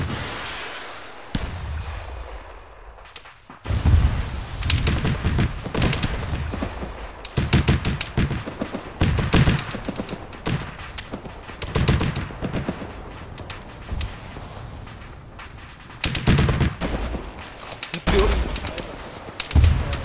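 Rapid bursts of automatic cannon fire from a Tunguska anti-aircraft vehicle in a Darkest Hour battle, loud and repeated in clustered volleys, mixed with other gunfire and distant explosions across a busy combat soundscape.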